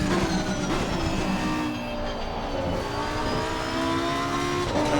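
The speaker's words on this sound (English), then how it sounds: "Really impressed with that 6-cylinder that's in there, that twin turbo 6" Twin-turbo six-cylinder race car engine in Assetto Corsa Competizione, a loud, steady, droning roar with rising harmonic whine as it accelerates, continuous and up close with no talking.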